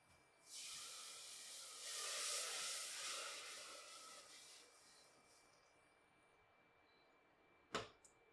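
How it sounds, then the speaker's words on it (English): A hot pan sizzles and hisses loudly as liquid is added to deglaze it, the steam fading over several seconds before a single short clatter near the end. "I'm going to go deglaze this."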